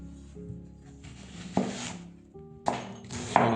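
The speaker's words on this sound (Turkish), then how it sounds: "Soğanımızı ince ince doğruyoruz." A knife thinly slices onion on a board while making Albanian-style liver meze. Several crisp chopping thunks and scrapes ring out close up over a low background hum, with no talking.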